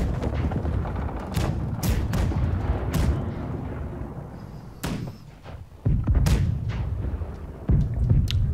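Schooner cannons in a naval video game fire heated shots at a large ship, sounding as a run of loud, sharp booms with uneven gaps between them.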